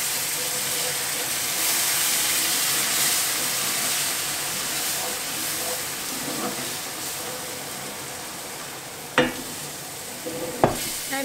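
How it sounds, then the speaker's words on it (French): A brown roux deglazed with marsala and topped with beef broth sizzles and hisses steadily in the pan, with stirring noises and two sharp clatters near the end. "Je vais pouvoir déglacer avec le marsala. Et je vais ajouter mon bouillon de bœuf."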